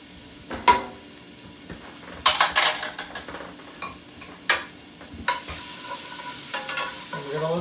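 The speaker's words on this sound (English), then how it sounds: "And we're going to let the shallots sweat." Shallots sweating in a pan for shrimp in lobster cream sauce: a low, steady sizzle under occasional stirring scrapes and clinks of a utensil against the pan, with louder bursts of stirring partway through.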